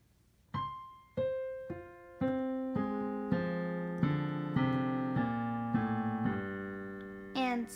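Single notes of the undertone series sound one after another with the intervals reversed, a few soft notes and then a run of steadier repeated ones, alone and fairly quiet.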